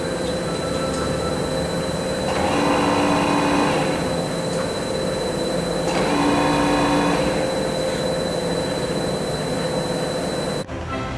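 An ACER Dynamic oil country lathe moves its cross slide and tool post in and out, a steady loud mechanical drone with two rising whirring passes and a constant high whine.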